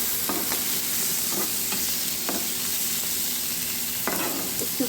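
Onion, potato and tomato with turmeric frying in a pan, a continuous loud sizzle broken by several scraping stirs of the spoon, close up with no talking.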